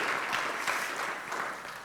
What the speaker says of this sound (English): let's give an applause to Snezana Zlatkovic.